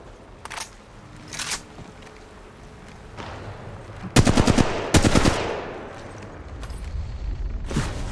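Bursts of automatic gunfire from the mobile battle royale game Apex Legends Mobile, with a few isolated shots early on, then a loud rapid volley midway and more shots trailing off.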